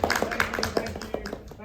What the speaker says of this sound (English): a big round of applause for my volunteers